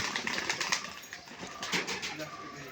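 Giribaz pigeons flying after leaving their loft give quick fluttering bursts of wing flaps, fairly close and moderately loud, repeating in uneven pulses over a faint outdoor background.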